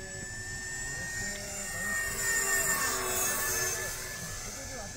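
An RC model Cessna 182 airplane on an early test flight with a 4-cell battery, its steady motor whine droning overhead and swelling slightly midway, heard fairly faint with people talking nearby.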